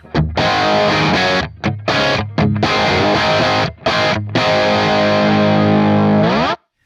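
A distorted electric guitar plays through a Marshall-style cab with Celestion Creamback speakers, loud chords in short bursts broken by brief gaps, then one long ringing chord that cuts off abruptly.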